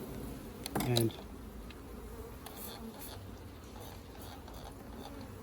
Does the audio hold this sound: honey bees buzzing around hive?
yes